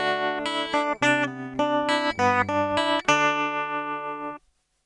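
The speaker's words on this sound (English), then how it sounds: "Tremolo sounds like this." A bright synthetic tone plays a sequence of sustained notes with a subtle pulsing in volume, steady and close, ending in a short fade.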